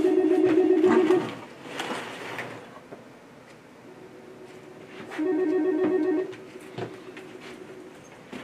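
A telephone rings in a room, two long warbling trilled rings separated by a quiet gap, fairly close and clear with faint background sounds between them.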